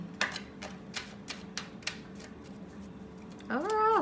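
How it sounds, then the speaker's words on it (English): Tarot cards are shuffled in a series of quick crisp riffles and taps, close by, followed by a brief tonal sweep at the end. "Let me shuffle these one more time so they can stop sticking together so much."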